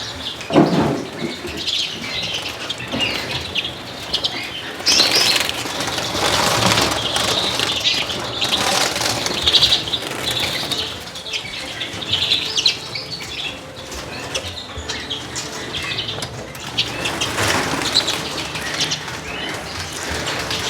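Redpolls flap and flutter inside a bird room while being caught, giving repeated close bursts of wingbeats with some chirps, continuing busily throughout.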